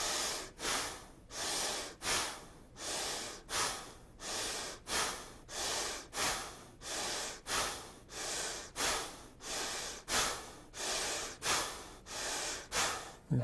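Bhastrika bellows breathing, a person taking about twenty rapid forceful breaths through the nose, each a loud close rushing puff in a steady pumping rhythm, with no talk.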